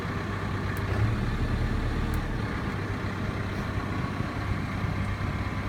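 A Massey Ferguson 5611 tractor engine runs steadily at about 1580 RPM to drive the PTO at 540 economy, a constant low diesel drone with a deep throb, close and unbroken throughout.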